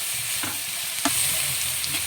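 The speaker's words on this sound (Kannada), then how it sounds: "ಟೊಮೊಟೊ ಮೆತ್ತಗಾಗೋ ತನಕ ಸ್ವಲ್ಪ ಇದನ್ನ ಫ್ರೈ ಮಾಡ್ಕೋಬೇಕು." Onion and tomato frying in a pan for a village-style mushroom sambar, a steady sizzle with a few soft stirring scrapes of a spoon against the pan, no voices.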